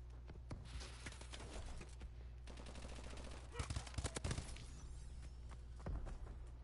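Call of Duty gunfire crackles in dense bursts and rapid automatic volleys, with several louder near shots standing out over steady distant shooting and game noise.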